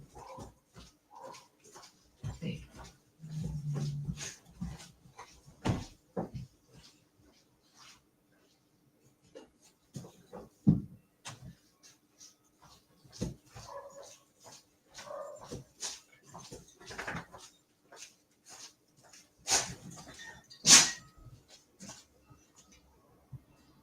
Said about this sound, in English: that was just the big dog coming